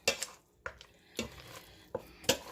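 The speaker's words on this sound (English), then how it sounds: "Now I'm just going to start mashing" Cooked turnips being mashed in a pot, heard as a few separate scraping, squelching strokes spaced about half a second apart, close and moderately loud with no talking.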